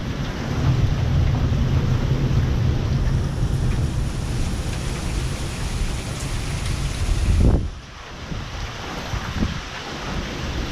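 Strong gusts roar through a severe windstorm as a loud, dense rush of noise that holds steady for several seconds, then abruptly drops to a lower, rougher blustering near the end, with no voices.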